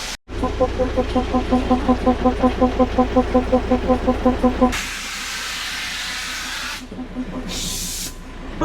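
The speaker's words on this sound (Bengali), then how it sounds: "ট্রেন এখন আমাদের ছেড়ে দিল সুকনা স্টেশন থেকে" Darjeeling toy train pulls out of Sukna station with a loud, rhythmic steam chuffing, about twenty regular beats, then gives way to a broad hiss of released steam with brief bursts.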